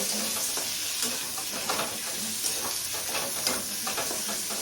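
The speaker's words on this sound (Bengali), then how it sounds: "টমেটো দিলাম, দিয়ে এগুলোকে আবার একটু নাড়াচাড়া করে নিচ্ছি" Tomatoes fry with ginger, onion and green chilli in a pan while being stirred, making a soft, continuous sizzle broken by repeated scraping stir strokes.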